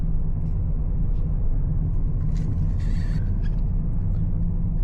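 A 2025 Changan Eado car cruising on a road in Riyadh, heard from inside as a steady low rumble of engine and tyres, with a few faint clicks and a brief soft hiss partway through.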